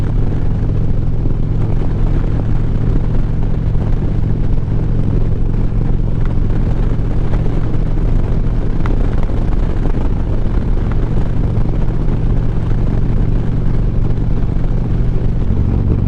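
A 2011 Harley-Davidson Street Glide motorcycle cruising in sixth gear, its engine a steady, loud, continuous low drone with wind rush throughout and no talking.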